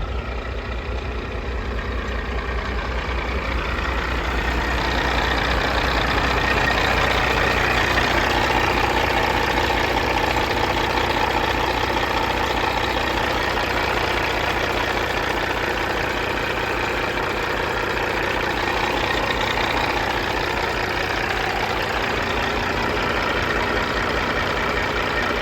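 Caterpillar diesel in a 2014 Peterbilt 389 glider kit truck idling steadily for the whole stretch, a close, continuous rumbling clatter with no voices.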